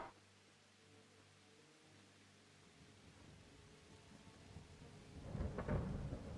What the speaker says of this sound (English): It's starting to rain pretty bad now.